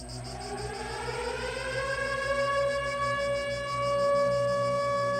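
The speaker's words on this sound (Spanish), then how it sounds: "Unas horas después se escuchó una sirena." A civil-defense-style siren wails alone, its tone sliding upward and then holding a high sustained pitch, growing slightly louder and steady over a low background hum.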